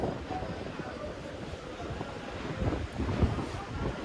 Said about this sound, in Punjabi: ਹਵਾ ਚੱਲ ਰਹੀ